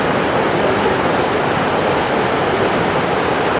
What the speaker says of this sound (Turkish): Abdal Deresi'nin taşma sonucu Eren Mahallesi'nin bir bölümündeki yollar, bahçeler ve çocuk parkı su altında kaldı.